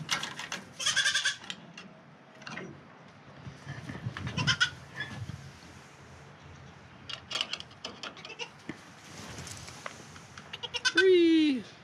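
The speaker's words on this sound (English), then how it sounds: "goats really don't like to be alone. They're herd animals." A baby goat left alone bleats anxiously in short, wavering cries that rise to a loud, close call at the end, with rustling, scattered noises and faint voices in the background.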